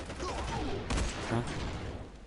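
Rapid bursts of gunfire crackle through a busy, noisy game soundscape, with a few sharper shots standing out over the steady din.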